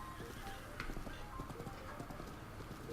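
Horse hooves clip-clop in The Legend of Zelda: Breath of the Wild, a quiet steady run of rhythmic hoof beats with game music faintly underneath.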